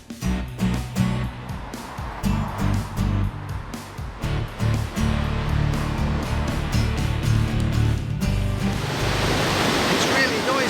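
A loud river swollen with snowmelt rushes through Durham city centre, a steady broadband roar that fills the whole clip with a few thuds and knocks over it, growing brighter toward the end.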